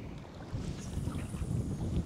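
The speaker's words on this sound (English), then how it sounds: "It's really windy out here." Gusty wind buffets the microphone outdoors while wade fishing with cut bait in water, a steady low rumble that swells louder after the first half-second and keeps roaring without letup.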